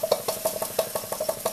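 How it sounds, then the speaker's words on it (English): A small uniflow-type steam engine running on steam from a Stuart 504 boiler, barely ticking over with a steady rhythmic chuffing of sharp exhaust puffs, close and moderately loud. "this is barely ticking over"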